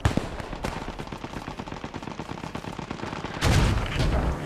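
Dense, rapid gunfire and artillery blasts crackle through a WWII-style war video game battle between clans, with a louder, heavier explosion swelling near the end; no voices.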